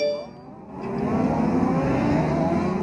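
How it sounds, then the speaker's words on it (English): Wingless 600 race cars fire up and roll away at a speedway, their engines building into a loud, steady layered drone after a brief quieter moment. No voices are heard. "Everybody has fired up and is rolling away,"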